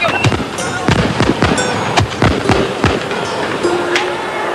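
Fireworks burst during a celebration of the Grand Sumo Tournament in Japan, a rapid irregular string of crackling pops and bangs over a busy festive background, loud and fairly near.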